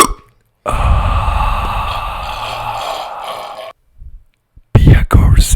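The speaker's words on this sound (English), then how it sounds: "Beer goes in, burps come out, loud, proud, and totally pointless" A long, loud throaty burp from someone drinking beer, followed by a short grunt and a couple of closer, rougher bursts at the end.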